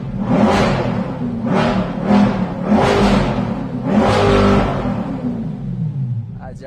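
Chevrolet Corvette C8 Z06 engine blipped through four or five loud, close revs, each swelling and falling back, with a rumbling idle between them.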